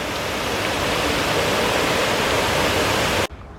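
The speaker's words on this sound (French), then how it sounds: "apparemment ça s'appelle le pont romain, il y a une belle cascade" Waterfall at the Roman bridge in Thônes, Haute-Savoie, a loud steady rushing roar of falling water heard up close that cuts off abruptly near the end.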